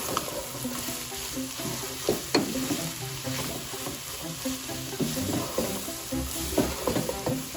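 Chicken samosa filling being stirred and mixed in a pan over low heat gives a steady soft sizzle, broken by occasional louder scraping strokes of the spoon against the pan.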